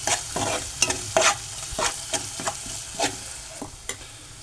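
Spices frying with onions, green chillies and curry leaves for a prawn curry, a sizzle broken by a rhythmic series of sharp scraping stirs and clinks of a spoon against the pan.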